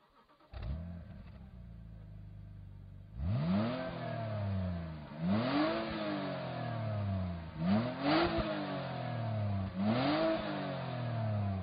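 BMW E90 330xi sedan engine, quiet at first, then revving hard in four repeated rising and falling sweeps, each surge climbing and dropping back, loud and close with no talking.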